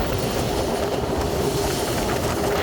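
A train rolling across the Buriganga railway bridge, its steady rumble and rhythmic wheel clatter filling the short stretch evenly and fairly close, with no voices.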